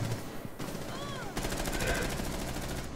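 Gunfire in the game Rainbow Six Siege, rapid automatic bursts with a rattling repeated rhythm that intensifies in the second half, alongside gameplay effects and faint voices.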